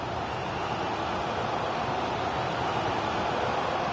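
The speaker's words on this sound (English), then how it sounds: "The crowd encouraging him to take it on." A stadium crowd in a football video game featuring Benfica gives a steady, diffuse roar of encouragement that stays even and unbroken throughout, with no clear talk.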